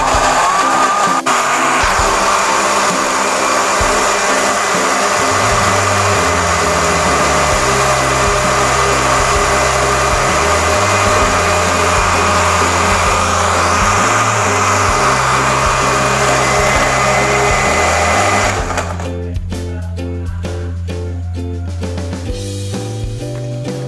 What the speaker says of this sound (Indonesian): Lalu kita blender ya.